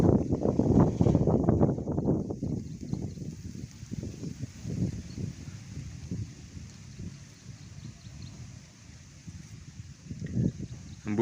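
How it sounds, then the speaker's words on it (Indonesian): Wind gusts blowing in from the west roar and buffet the microphone in uneven bursts, strongest early on, then easing into fainter rushing with a final swell near the end. "Hembusan angin yang datang dari barat ini ya teman-teman"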